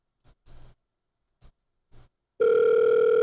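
An outgoing telephone call: a few soft clicks on the line, then a loud, steady ringback tone starts and continues without talk.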